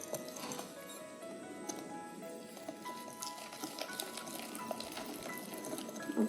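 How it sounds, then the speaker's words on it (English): Japanese souffle pancake batter being whisked by hand, a steady, fairly quiet scraping and clicking of the whisk against the bowl that runs continuously without pause. "just whisk that all together."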